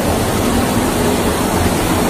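Steady, loud rush of a deep river flowing below, a constant broadband roar with no breaks or voices.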